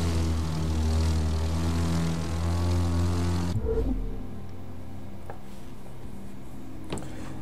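Propeller plane engine from the racing game The Crew 2 drones loudly with steady harmonic tones for about three and a half seconds, then cuts off abruptly, leaving a quieter background hum.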